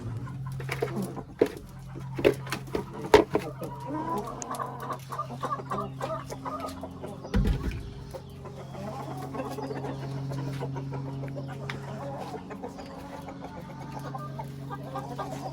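Brahma chickens cluck repeatedly on a farm, a cluster of close, sharp calls early on over a steady low hum, continuing more softly afterward.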